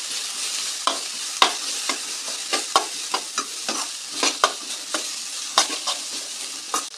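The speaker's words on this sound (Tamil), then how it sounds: "கொத்தவரங்காய் சேர்த்து எண்ணெயிலே நல்லா ஒரு வதக்கு வதக்கிட்டோங்க" Cluster beans stir-fried in oil with turmeric and spices sizzle steadily in a pan, broken by repeated scraping stirs of a spoon at an irregular pace.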